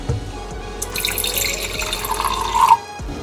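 Room-temperature water poured into a container for a bagel starter, a short steady trickle with a rising splash near the end before it stops.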